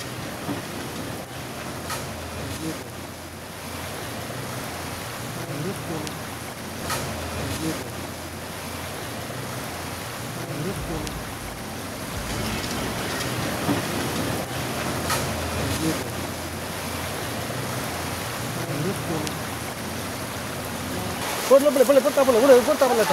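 Swarna River floodwater rushing into a coconut plantation, a steady roaring wash of water heard at a distance, continuous for the whole stretch with a louder burst near the end.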